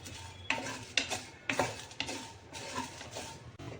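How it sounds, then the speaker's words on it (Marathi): Whole spices dry-roasting in a pan over low heat, stirred with a spatula in a steady rhythm of scraping strokes about every half second, with faint crackle underneath and no talk. "मंद आचेवर सर्व मसाल्याचे पदार्थ एकत्र भाजून घेऊ."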